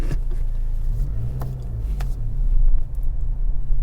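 An Acura Integra A-Spec with a manual transmission driving along, with a steady low engine and road rumble inside the car that swells briefly as it accelerates near the end, plus a few small clicks.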